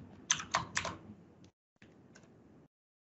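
Someone types on a computer keyboard in a short quick burst of clacking keystrokes, a pause, then a few more softer taps, close and alone.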